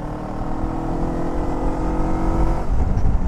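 A Zongshen Cyclone RX3s motorcycle accelerates in fifth gear, its engine drone steady and close, building slightly toward the end.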